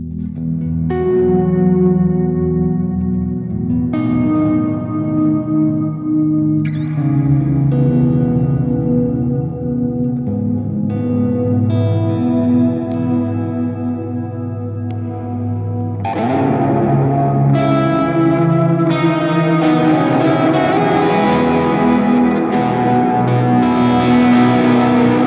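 A Walrus Audio Slöer stereo ambient reverb pedal washes a played instrument in lush, swelling reverb and shimmering echoes, notes blooming and sustaining loudly over changing chords for the full stretch.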